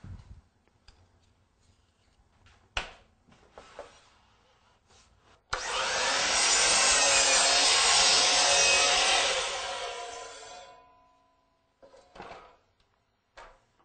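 A DeWalt DW718 sliding miter saw cuts through crown molding in one loud, sustained cut of about five seconds, preceded by a few sharp clicks and knocks, and the blade spins down at the end.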